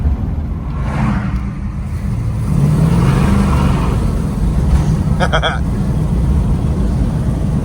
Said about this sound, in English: Doesn't get much better than cruising around in your old Mopar